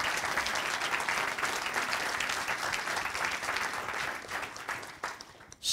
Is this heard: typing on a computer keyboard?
no